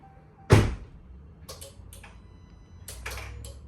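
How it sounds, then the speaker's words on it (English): A single solid thump of a Ram pickup truck door shutting close by, followed by a few faint clicks and rustles in a quiet cab. "I'm going to close my door."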